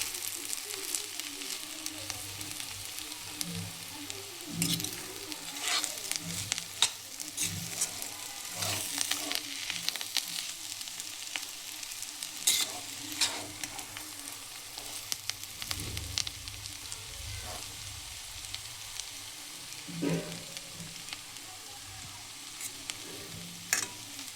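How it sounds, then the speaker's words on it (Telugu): An egg fry with freshly chopped coriander sizzles in a pan, a moderate steady frying hiss with intermittent stirring scrapes and spatula taps spread across the whole stretch, with no voices. "కట్ చేసుకున్నటువంటి ఇలా కొత్తిమీరని వేసి కలుపుకొని ఫ్రై చేసుకోవాలి ఫ్రెండ్స్"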